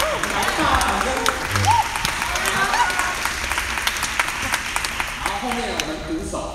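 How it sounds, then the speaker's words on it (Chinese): Audience applause fills a concert hall at a big band performance, a steady wash of clapping that holds evenly for several seconds, fairly close and without a break. "来吧，掌声。"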